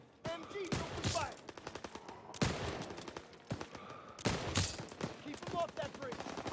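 Machine gun fire in the video game Call of Duty WW2, rapid bursts of gunfire rattling in repeated volleys, loud and close, with voices speaking between them.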